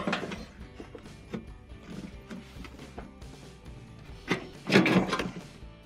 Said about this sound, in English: with a flat bladed putty knife, we're going to depress the tabs on the front console and lift up on the front of the panel at the same time